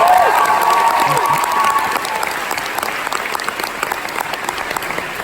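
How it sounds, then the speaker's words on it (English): Comic convention panel audience applauding and cheering loudly all at once, a dense wash of clapping with a few whoops early on, then settling into steady, slightly softer applause. "Can we get a round of applause?"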